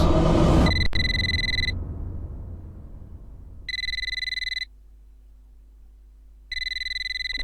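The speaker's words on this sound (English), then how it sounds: "Answer the phone!" A telephone rings in the horror video game Eternal Darkness: Sanity's Requiem, loud electronic trilling bursts that repeat with long gaps over a low droning rumble, following a brief burst of noise at the start, with no voices.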